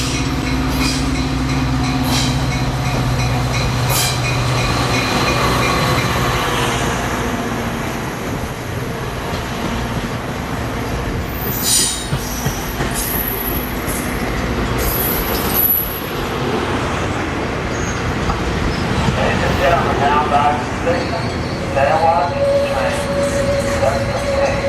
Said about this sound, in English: when who should come rolling in on a San Joaquin train but my old friend 229